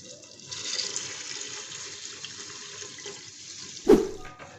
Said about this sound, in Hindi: अब इसके अंदर हम डालेंगे पानी